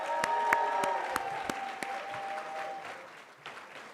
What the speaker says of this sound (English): Please give each of them a round of applause.